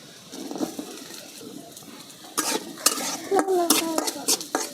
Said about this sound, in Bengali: পেঁয়াজ মরিচগুলো আমি আগে একটু হালকা করে ভেজে নিলাম